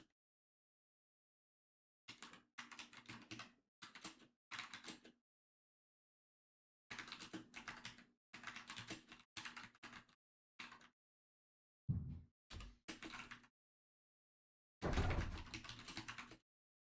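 Bursts of typing on a computer keyboard, quick clusters of close, crisp key clicks separated by pauses of silence, with a few heavier taps near the end.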